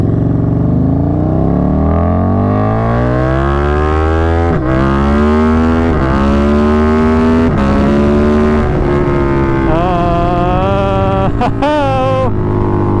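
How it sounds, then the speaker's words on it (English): KTM 1290 Super Duke R motorcycle with a loud, throaty exhaust under way, the engine note rising steadily through the gears with brief dips at each shift and sharp revs near the end, close and continuous. "Dude, that exhaust."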